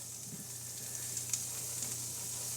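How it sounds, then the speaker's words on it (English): Garlic and herb butter sizzles in a hot pan on the stove, a steady soft crackling hiss with occasional small pops, close and fairly quiet, with no talking. "Hear that sizzle? That's what we want. That means we're getting hot."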